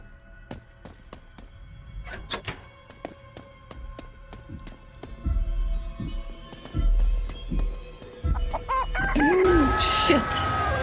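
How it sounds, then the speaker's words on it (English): A giant chicken in the horror stealth game Chicken Feet clucks in a steady run of sharp calls, then lets out a loud, drawn-out crow near the end, with game thuds and rumbles underneath. "Fucking chicken."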